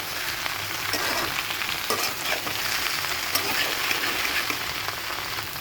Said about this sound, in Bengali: আলু এবং ভেন্ডি একসাথে মিশিয়ে নিচ্ছি